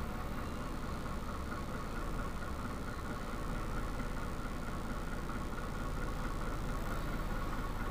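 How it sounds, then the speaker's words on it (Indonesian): A car engine idles steadily at low volume, a continuous even hum with no revving and no voices, recorded during a test of a car with and without a voltage step-up. "Kemudian kita coba nyalakan mesinnya"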